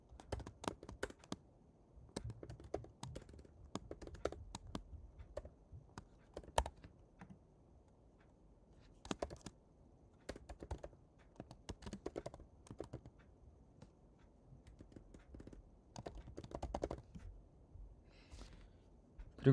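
Someone types a name on a computer keyboard in Roblox Studio. Quiet bursts of clicking keystrokes come in short runs separated by pauses, with no talking.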